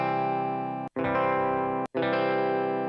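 Distorted synth or instrument tone from the distortion effect plugin in Logic Pro for iPad, sustained and loud, with two abrupt brief cutouts between phrases and no voices.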